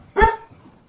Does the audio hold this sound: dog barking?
yes